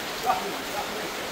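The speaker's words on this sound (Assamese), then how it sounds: "গোটেই বৰষুণ আহি গ'ল" Heavy rain falls in a steady, even hiss for a brief moment, with a faint voice in the background.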